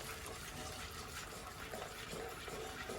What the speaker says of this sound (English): now our butter is melted nicely, so I'll just add those into the eggs